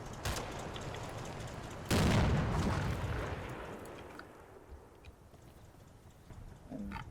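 An artillery round landing in the video game Combat Mission: Battle for Normandy, a loud sudden blast that rumbles and slowly decays, preceded and followed by faint distant thumps.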